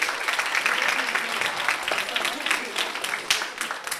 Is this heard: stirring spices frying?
no